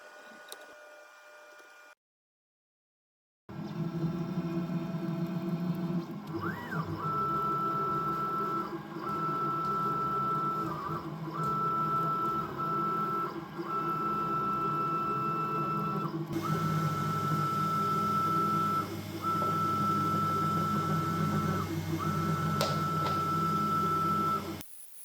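A Carvera Air desktop CNC machine with air assist at the spindle runs steadily, holding a continuous mechanical whine with repeated tonal beeping motor pulses, loud and close after a short silent gap.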